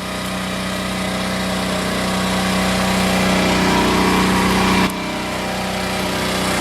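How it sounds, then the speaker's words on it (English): A small 1500 watt portable generator runs steadily at a campsite in British Columbia, its constant engine hum and buzzing drone holding close and loud until it cuts off abruptly near the end. "Got the generator running, little 1500 watt generator."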